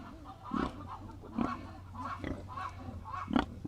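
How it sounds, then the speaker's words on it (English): Farm chickens, stirred up at breakfast time, clucking and squawking in repeated bursts at close range, with a steady low hum running underneath. "Chickens are all stirred up."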